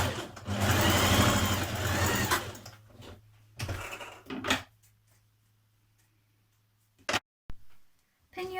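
Sewing machine stitching neck facings to a tunic top at the shoulder seams, a loud dense whirring run of about two and a half seconds, then short bursts and a few sharp ticks with quiet gaps between.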